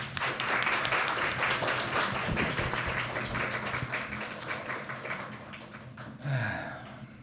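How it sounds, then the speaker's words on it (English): A conference session audience applauds, a broad wash of clapping that fades gradually toward the end, with a brief low thump and rustle near the close. "Thank you, and applause."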